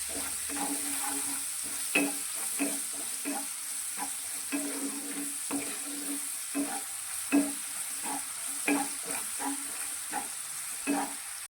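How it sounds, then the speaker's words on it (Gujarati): Finely chopped onion frying in a pan for a green chilli gravy curry, an even sizzle broken by repeated close scraping strokes of a spoon stirring at an irregular pace, with no talk. "અત્યારે મેં એક ડુંગળીને આ રીતે ઝીણી સમારી લીધી છે તે અંદર લઈ લઈશું અને ડુંગળી થોડી આછી ગુલાબી થાય ત્યાં સુધી તેને સાતરીશું"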